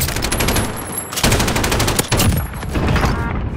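Rapid automatic gunfire in the video game Warzone, loud and continuous bursts with sharp reports filling the whole stretch and brief gaps between volleys.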